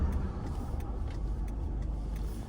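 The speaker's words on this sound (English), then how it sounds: "Let that car go by." A car passes on a street in Passaic, New Jersey, a steady low road rumble and tyre hiss under faint traffic noise, with no voices.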